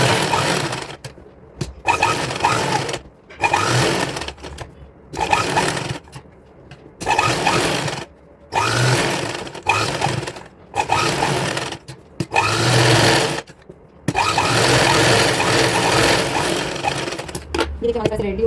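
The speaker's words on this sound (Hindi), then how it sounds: "अब हम यहाँ पे एक प्रेस सिलाई ऊपर से लगा देंगे" A sewing machine top-stitches fabric for a girl's designer outfit, running in repeated loud bursts of rapid whirring separated by short pauses, with one longer run near the end. A voice speaks in the gaps.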